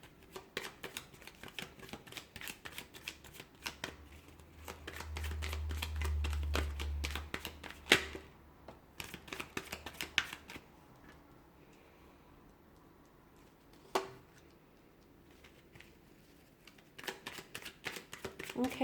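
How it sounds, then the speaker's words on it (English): Tarot cards being shuffled in a bout of soft, close riffling and papery rustle that runs for about three seconds midway, with scattered light taps and handling clicks before and after in a quiet room. "I'm going to give the cards a shuffle"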